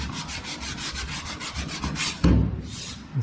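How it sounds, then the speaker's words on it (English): Hand sanding a primed body panel on a 1969 Mustang BOSS 302 during restoration: a close, steady rasping scrub in quick back-and-forth strokes, then a heavier bump of the block near the end, with no talking. "So keep sanding."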